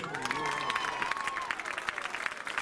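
Crowd at a high school homecoming football game applauding and cheering for the newly crowned homecoming queen, a fairly faint wash of clapping with a public-address voice and musical tones over it.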